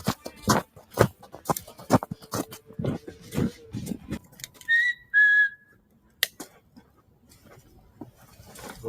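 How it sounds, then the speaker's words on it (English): Rustling and thumping footsteps in a forest campsite, then two short clear whistled notes ringing out, followed by quiet with a few faint movements. "What would you do if we heard that whistle come"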